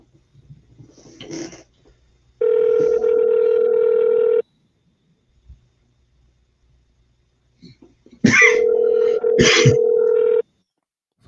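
A telephone call rings out in two long buzzing tones, each about two seconds, separated by a pause, with brief talk and noise in between.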